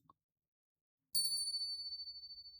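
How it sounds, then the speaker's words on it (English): A single bright bell chime rings out in a video game, a clean metallic ding that lingers and slowly fades, heard alone with no talking. "Ring the bell."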